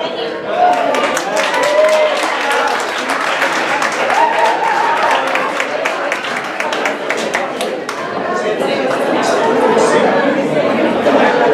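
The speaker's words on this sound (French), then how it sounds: "mesdames et messieurs, une bonne main d'applaudissement pour elle" A concert audience at a classical piano recital applauds in a sustained, steady wash of clapping, with chatter and voices mixed through it.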